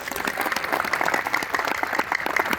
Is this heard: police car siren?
no